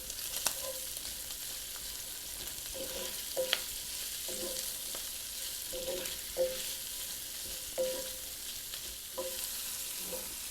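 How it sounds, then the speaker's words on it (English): Bacon and kielbasa sausage frying in a skillet give a steady, soft sizzle, broken by occasional scrapes and clinks of a utensil stirring the pan. "Once your bacon starts to get nice and crispy, go ahead and add your kielbasa sausage"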